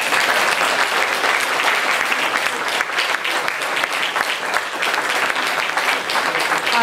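Dense, sustained applause from a concert audience greeting a mixed choir, steady and loud throughout with no break or speech over it.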